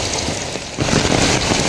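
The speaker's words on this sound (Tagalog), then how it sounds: "Grabing ulan, walang tigil mula pa kahapon hanggang ngayon." Heavy, steady rain falls in Tacloban, a dense continuous wash that grows louder and fuller partway through.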